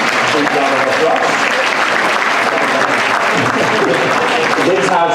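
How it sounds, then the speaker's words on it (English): A conference audience applauds the panelists, dense, loud and sustained clapping filling the room from start to finish, with a few voices mixed into the noise. "Can we give these incredible people a big round of applause?"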